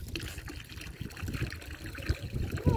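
Water trickles and splashes while a vegetable garden and compost pile are watered, close by, with a steady liquid patter and a voice briefly heard.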